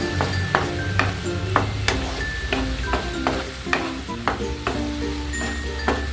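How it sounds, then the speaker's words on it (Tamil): Mushrooms sautéing in butter for a garlic pepper mushroom fry, with a steady close sizzle broken by regular, sharp taps of a spatula stirring against the pan. "அந்த மஷ்ரூமை பட்டரில் வதக்கினால அது நல்லா டேஸ்டியாக இருக்குங்க"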